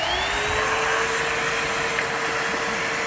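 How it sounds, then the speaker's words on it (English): A vacuum cleaner runs steadily around a Porsche 944 cylinder head, a loud continuous whine and roar held close up without a break, with no voices. "So now I'm going to vacuum it up"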